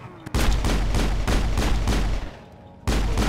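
Assault rifle fire from the video game Mass Effect rattles in loud, continuous bursts, a long sustained stream briefly pausing before resuming.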